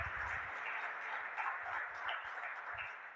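A church congregation claps steadily throughout, a dense, even wash of applause filling the sanctuary from start to finish.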